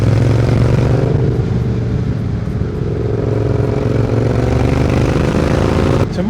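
A Triumph Bonneville T120 motorcycle with aftermarket exhausts idles close by, giving a deep, steady, throbbing rumble with a slight rise in revs toward the end.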